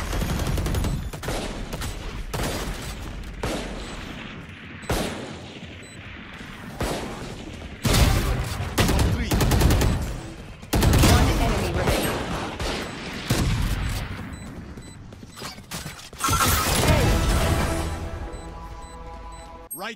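Gunfire in the shooter game Havoc with Harbor: sustained bursts of automatic fire and repeated loud shots, close and dense for the whole stretch, with brief gaps and clattering mechanical sounds between volleys.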